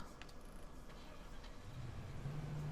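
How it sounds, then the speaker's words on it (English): A car engine starts and settles into a low steady idle inside the video game Arma 3 Altis Life, a quiet low rumble that grows slightly louder toward the end, with no talking. "that's my car that just started up"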